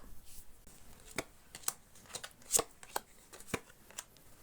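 A deck of cards being shuffled nearby: a series of crisp riffling snaps and flicks, irregular and fairly quiet.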